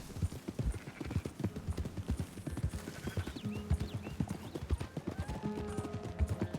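Horse hooves clip-clopping in Red Dead Redemption, a steady rhythmic trot of close, distinct hoofbeats with occasional whinnies and ambient game sounds, no talk.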